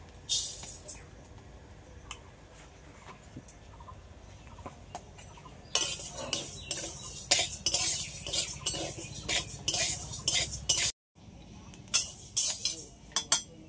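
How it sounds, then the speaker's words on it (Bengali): Mung dal lightly dry-frying in a kadai (wok) as a metal spatula stirs it, with scraping and clinking that start quiet and turn into brisk, rhythmic strokes midway, pausing for a moment before resuming. "এই ডালটা কড়াইতে হালকা করে একটু ভেজে নেব"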